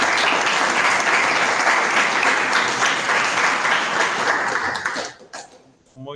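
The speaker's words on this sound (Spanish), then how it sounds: "Un fuerte aplauso, por favor," An audience gives sustained applause after a technical lecture, a dense, steady wash of many hands clapping that fades out near the end as a voice begins.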